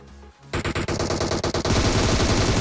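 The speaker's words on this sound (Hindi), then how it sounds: "यहाँ पे लेट के फायरिंग कर रहा था शायद से मेरे टीममेट से" Gunfire from PUBG Mobile in a squad fight involving M249 and DP-28 light machine guns: after a quiet moment, a rapid burst of close automatic shots leads into a dense, loud sustained barrage.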